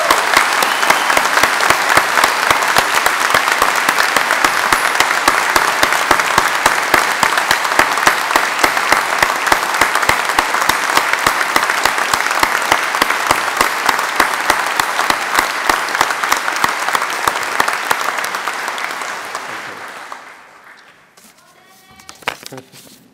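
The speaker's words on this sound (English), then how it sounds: "let's start today's ceremony by giving all of our amazing graduates a huge round of applause." A large hall audience applauds graduates at a degree ceremony, loud continuous clapping for about twenty seconds before it dies away, leaving faint voices.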